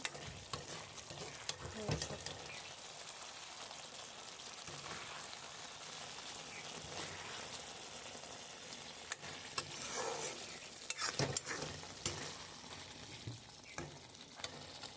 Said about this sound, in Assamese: এয়া চাওক ধুনীয়াকৈ উতল আহিছে। এতিয়া হ'ব আৰু অকণমান লাৰি দিছোঁ।